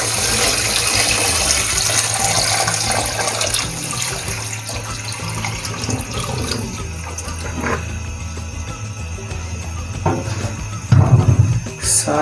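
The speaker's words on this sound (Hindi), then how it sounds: "अब इसमें मैं डालूँगा तकरीबन 6 लीटर के करीब पानी।" About six litres of water pours into a cooking pot for Lahori beef paya, a continuous splashing rush that swells and fades, ending with a louder burst of splashing.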